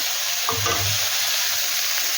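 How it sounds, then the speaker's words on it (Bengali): Chicken filling for cones fries in a pan and makes a steady hiss. A short burst of stirring and scraping comes near the start. The sound is close and moderately loud, with no voices. "এখন এগুলো ভাজা হয়নি, একটু সময় ধরে ভালো করে ভাজতে হবে।"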